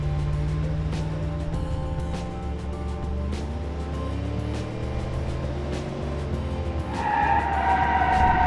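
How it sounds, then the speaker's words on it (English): A simulated car in BeamNG speeding toward a ramp, its engine tone rising and shifting steadily, then tire and impact noise swelling near the end as it jumps. "And now let's jump the car through there."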